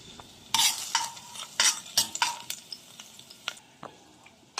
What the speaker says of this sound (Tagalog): ngayon ilalagay na natin yung bawang